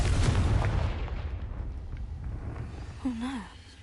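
A Confringo blasting spell explodes in Hogwarts Legacy, a loud booming blast at the start that decays over a few seconds, followed by a brief high creature-like cry near the end.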